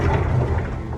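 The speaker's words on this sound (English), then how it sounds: "I feel bad every time I open and close the door because it's very loud" A cabin closet door in a balcony stateroom aboard Royal Caribbean's Allure of the Seas, opening and closing with a loud, grinding mechanical rattle that fills one dense, steady second, close to the listener.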